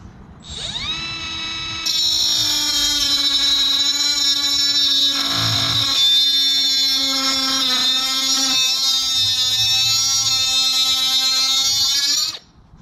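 A Milwaukee M12 Fuel 3-inch cut-off tool cuts with a Harbor Freight Warrior 60-grit wheel, a loud high-pitched steady whine that spins up, holds for about ten seconds under load and then stops abruptly.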